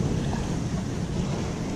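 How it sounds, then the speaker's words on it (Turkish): Strong wind roaring over a sailboat sailing close-hauled at sea toward Havana, a dense, low, continuous rush buffeting the microphone with the wash of water beneath and no voices. "Acayip derecede bir rüzgar çıktı"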